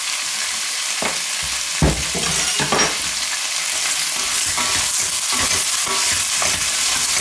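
Diced carrots and butternut squash sautéing in a pot, a steady bright sizzle with several stirring scrapes and clatters of a utensil against the pan, close and loud, with no talk.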